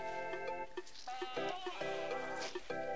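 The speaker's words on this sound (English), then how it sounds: "Let's gather the sheep together." Sheep bleat in the VR game Flocklore, with several wavering, drawn-out cries overlapping in close succession and a steady background tone beneath them.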